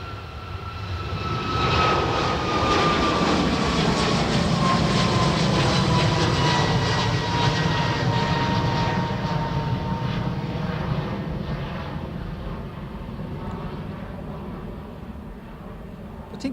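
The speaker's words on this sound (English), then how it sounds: "Aer Lingus XLR to Indianapolis." Aer Lingus Airbus A321XLR jet taking off at Dublin Airport, a loud sustained engine roar with a falling whine that swells quickly, holds, then slowly fades as it climbs away; no talk.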